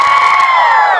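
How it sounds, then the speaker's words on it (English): Fans at a question-and-answer session with a band screaming loudly and continuously, a dense crowd of high-pitched shrieks and cheers sustained for about a second. "Go ahead, scream."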